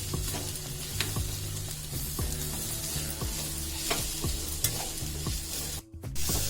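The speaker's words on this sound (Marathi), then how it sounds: "यामध्ये ओलं खोबरं टाका मिक्स करून घेऊया" A spatula stirs bharang, a monsoon wild leaf vegetable, with grated fresh coconut in a pan, making rhythmic scraping knocks over a steady soft sizzle, with no speech.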